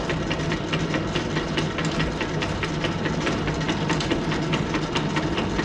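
A lathe cuts internal threads with lubricating oil applied, giving a continuous motor hum under a fast, regular ticking rattle that carries on evenly from start to finish.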